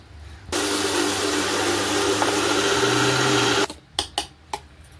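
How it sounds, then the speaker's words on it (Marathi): A kitchen mixer grinder grinds soaked dal for idli batter, its loud, steady motor whine running about three seconds before cutting off, followed by a few sharp knocks of the jar. "मिक्सरला डाळ वाटून घेऊया"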